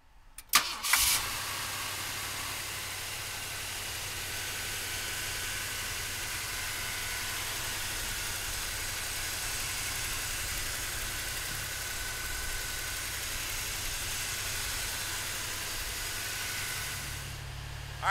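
A 1965 Ford Thunderbird's engine cranks and catches with a quick burst, then settles into a steady, loud, even idle that runs on for many seconds, close up.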